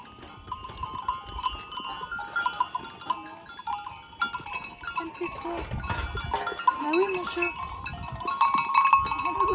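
Sheep and goats on a rural farm in the Italian countryside bleat now and then, with cowbells clanking among them. A voice talks at times, and the animal calls grow louder near the end.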